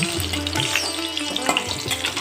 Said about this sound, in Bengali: এখন আমি ভেজে নিচ্ছি।